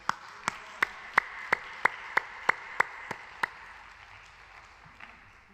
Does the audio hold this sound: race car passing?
no